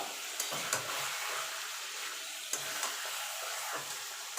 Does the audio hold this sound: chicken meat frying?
yes